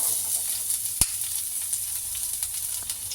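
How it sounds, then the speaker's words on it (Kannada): Two chopped onions frying in hot oil for a puffed rice dish, a steady close sizzle with one sharp clink near the start as they go in, no talking. "ಇದಕ್ಕೆ ಕಟ್ ಮಾಡಿರೋ ಅಂಥ 2 ಈರುಳ್ಳಿನ ಸೇರಿಸ್ಕೊತಾ ಇದ್ದೀನಿ."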